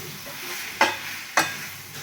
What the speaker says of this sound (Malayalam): കൊഞ്ചിട്ട് ഇതെല്ലാം കൂടി ഒന്ന് മിക്സ് ചെയ്ത് കൊടുക്കാം.